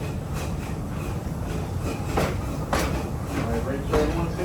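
Serengeti Express train ride at Busch Gardens Tampa Bay, a steady rumble of rolling railcars with occasional clacks and jolts, heard from on board under faint background voices.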